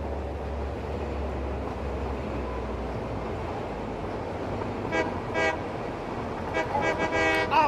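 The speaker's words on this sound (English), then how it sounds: "It had the little choo-choo whistle right there." A little toy train sounds a choo-choo whistle, with short tooting bursts near the end that follow a steady low rumble of running machinery. The toots are moderately loud and there is no talk.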